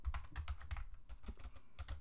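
Steady typing on a computer keyboard while code for a Flash menu is entered, with rapid irregular clicks close to the microphone, quiet overall and with no talking.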